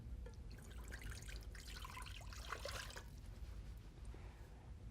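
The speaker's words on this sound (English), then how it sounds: "We're gonna fill it up with" Water from a tap running and trickling into a bowl in a kitchen, a steady quiet splashing stream that carries on throughout with no talk.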